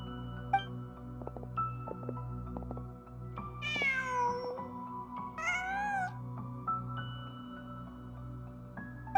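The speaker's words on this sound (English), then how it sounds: "Just a cat." A cat in Genshin Impact meows twice in quick succession, clear and upfront over a steady low hum of game ambience and scattered soft clicks, with no talking.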